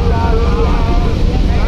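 Passenger launch Kuakata 2 passes on a river during a launch race after the Charmonai prayer gathering, giving a steady broad rumble of engine and water with wind buffeting, while a voice talks over it.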